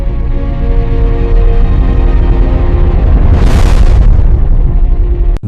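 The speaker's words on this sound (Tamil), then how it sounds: "கடலுக்குள் கூட எரிமலைகள் வெடிக்கின்றன" An underwater volcano erupts in a deep, continuous roaring rumble, loud and heavy in the low end, with a sharper burst of rushing noise surging midway before cutting off abruptly.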